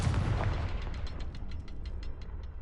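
A Confringo fire spell blast in Hogwarts Legacy: one sharp, booming hit opens, followed by a fizzing, crackling tail of small pops that slowly fades.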